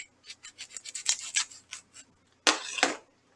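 A long fingernail scores a line down the side of an onion: a quick series of short, dry, close-up scratches, then a pause and one louder, longer scrape.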